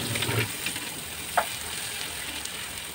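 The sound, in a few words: sautéing onion and tomato with curry leaves in a pan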